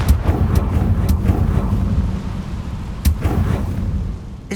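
A fiery Confringo spell blast in Hogwarts Legacy, heavy booming impacts with a rumbling, windy roar and a few sharp cracks, loud and close.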